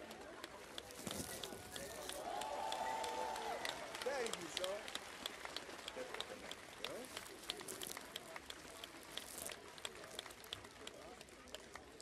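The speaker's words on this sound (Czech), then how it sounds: "Velký potlesk" A large concert crowd applauds a little girl singer at a live Christmas Eve show, steady dense clapping filling the whole stretch at moderate level, with a brief sung or whistled tone rising over it early on.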